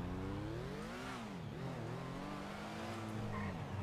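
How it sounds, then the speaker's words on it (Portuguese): Motorcycle ridden in a video game, its engine droning and revving steadily with shifting pitch throughout, loud and continuous with no talk over it. "Os amigos do China me deixou com essa moto aqui"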